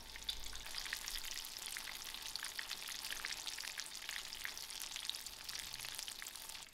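Crumbed chicken burgers fry in a pan over lowered heat, giving a close, steady sizzle and crackle with small pops throughout.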